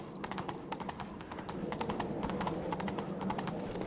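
Roach the horse in The Witcher 3 trots with steady clip-clop hoofbeats, close and continuous, over a low ambient game bed with no talking.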